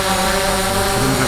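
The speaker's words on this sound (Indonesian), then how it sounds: "akan berputar baling-baling ya" Propellers of a DJI Phantom 4 Pro or Mavic Pro drone spinning up, a steady dense whirring hum held at an even, loud level for the whole moment, with no other sound cutting in.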